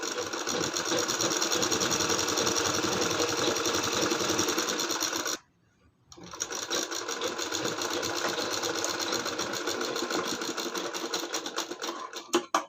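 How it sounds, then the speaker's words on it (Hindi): A sewing machine stitches palazzo fabric at a steady fast whirring, mechanical rhythm, close and loud, with a brief pause midway before stitching resumes and a few clunks at the end. "तो चलिए ये सिलाई लगा लेते हैं, फिर दिखाते हैं मशीन पे।"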